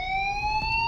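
A fire alarm in a school building in Life is Strange sounds as a loud, steady electronic tone with a slowly rising pitch, continuous and alone.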